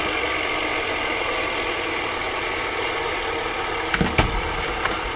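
An old tractor engine in Farming Simulator 2015 drones at a steady, even level under full throttle, with a few brief rattling knocks near the end and no speech.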